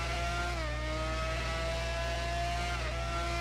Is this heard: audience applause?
no